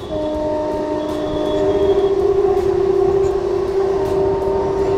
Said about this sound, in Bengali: দারুণ ভাবে কিন্তু ট্রেনটা রাস্তার পাশ দিয়ে কিন্তু বেঁকে চলেছে